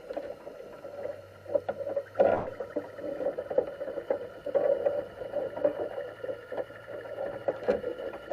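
A boat passes on open water outdoors, a steady low motor hum running under lapping and gurgling water, with a few louder splashes and knocks along the way and no talk.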